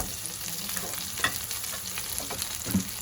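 Steak and mushroom sauce frying in a pan as it is stirred, a close constant sizzle broken by a few scraping utensil strokes and light clatters.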